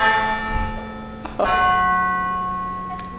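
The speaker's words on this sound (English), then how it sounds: "We have the big chimes." Big chimes ring out in a church, with one ringing tone already sounding, then a second strike that rings long and clear, its tone slowly fading.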